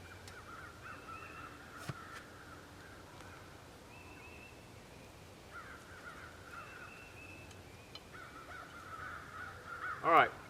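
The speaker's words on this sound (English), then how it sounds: "there's tons of crows crowing in the background back here" Crows caw repeatedly in the background of an outdoor vegetable garden where carrots are being planted, the calls distant and faint and spread out over a low steady ambience.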